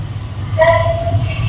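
An AC suburban train on the Chennai Beach to Chengalpattu line gives a steady low rumble and then a sustained tonal whine or horn-like note that holds for about half a second and fades, loud and close.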